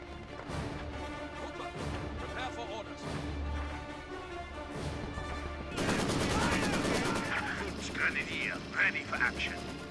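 Gunfire in Company of Heroes 2 during a match, scattered shots at first, then a dense burst of rapid machine-gun fire and crashes, with a player talking over the battle.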